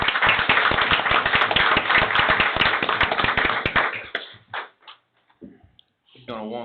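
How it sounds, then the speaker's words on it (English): Audience applause at a county board of commissioners meeting, a dense patter of claps for about four seconds that fades out, followed by a person starting to speak. "So I think we all give Chuck all a big round of applause"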